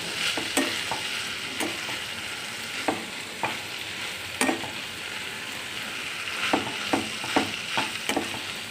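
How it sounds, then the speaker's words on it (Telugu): Spiny gourd fry is stirred in a pan, with a steady sizzle and irregular scraping strokes of the spatula against the pan repeating every second or so. "ఇప్పుడు దీన్ని మంచిగా మొత్తం కలిసేట్టు తిప్పుకోవాలి"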